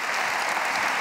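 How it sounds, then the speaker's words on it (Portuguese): Audience members on a Brazilian evangelical television program clap together in praise, a brief, dense burst of steady applause. "Palmas para Jesus, glória a Deus"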